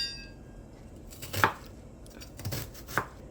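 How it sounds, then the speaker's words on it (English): A knife chops an onion on a cutting board in three distinct, sharp thuds spaced about a second apart, close up and fairly quiet. "We're gonna chop the onion."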